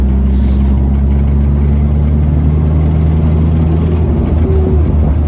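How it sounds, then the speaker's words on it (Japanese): A Nissan Silvia S14 turbocharged engine with aftermarket muffler idles and revs with a deep, steady rumble and droning low hum, loud and close, no voices. "ターボもマフラーも全部いい音するね"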